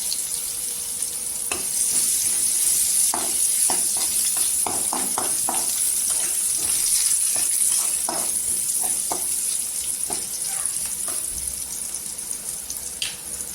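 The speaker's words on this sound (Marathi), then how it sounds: "जिरं टाकायचं जिरं छान असं सरतरलं इथे लसणीची पेस्ट आहे ती टाकायची" Cumin seeds and garlic paste sizzling in hot oil with curry leaves for a capsicum sabzi, a steady bright frying hiss with scattered pops and crackles, close and fairly loud, no talking.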